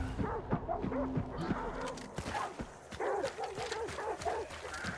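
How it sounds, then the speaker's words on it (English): Dogs bark and yip repeatedly in a hunting video game set in a bayou, the barks somewhat distant and mixed with game ambience and a low background drone. "I'm so far away from them dogs."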